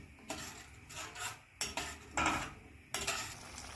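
Bitter gourd curry, just thinned with boiled water, is stirred in a metal pot: a run of close scraping and clinking spoon strokes in uneven bursts, with no voices.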